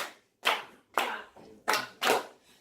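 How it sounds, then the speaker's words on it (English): Hands clap a Latin jazz rhythm, five sharp, close claps in an uneven syncopated pattern with short pauses between them, alone with no talking. "we're gonna clap 1, 2, 3"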